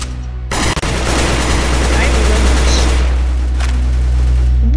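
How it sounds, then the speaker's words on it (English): AK rifle gunfire in the Roblox shooter game, a loud continuous burst of rapid automatic shots after a brief lead-in, dense and unbroken to the end. "AK is the strongest weapon that I have so far."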